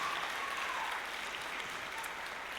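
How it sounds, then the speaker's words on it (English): Steady applause from a school band concert audience at Clovis High School, a dense, even wash of many hands clapping at moderate level, continuous throughout with no voices standing out. "One more round of applause for that amazing group of students"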